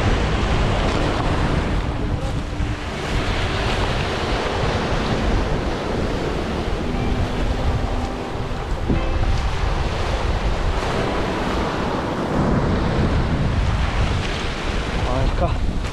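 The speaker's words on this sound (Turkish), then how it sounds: "Siz de rüzgarın sesini duyuyorsunuzdur." Surf rolls steadily onto a beach at Gallipoli while strong wind buffets the microphone, a continuous broad roar without a break and no talking.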